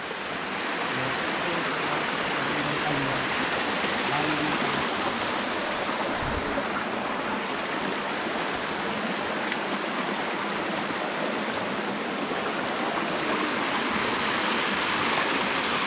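Borwas Falls waterfall at Sitio Gutad, Barangay Tanyag, roaring as a steady, dense rush of falling water that stays close and loud throughout, with no voices.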